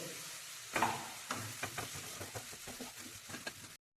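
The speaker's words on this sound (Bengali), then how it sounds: "পেঁয়াজটা হালকা বাদামি না হওয়া পর্যন্ত এটা আমি ভাজতে থাকবো।" Onions fry in a pan toward light brown, a soft, fairly quiet sizzle broken by repeated scraping stirs at a loose, steady rhythm.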